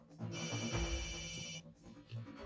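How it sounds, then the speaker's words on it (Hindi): A mobile phone ringtone chimes in a bright electronic tone for about a second, with faint voices and room noise around it. "अभिषेक अभिषेक देखो तुम्हारा फोन आया है।"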